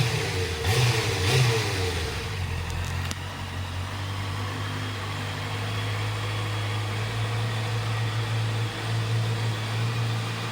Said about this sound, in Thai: ท่อเดิม สวยๆเลยนะ ฟังเสียงหน่อย